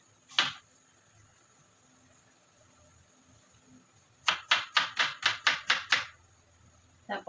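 A knife slices cucumber on a cutting board for a dipping sauce. A single chop is followed by a pause, then a quick even run of about eight close, crisp knife strikes.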